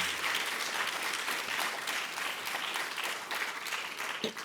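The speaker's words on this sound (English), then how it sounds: "Please give them a round of applause for all the efforts that went into today." An audience claps steadily for presenters and sponsors at the close of an AABR New Majority allyship event, a dense, even patter of many hands that holds for several seconds before thinning at the end.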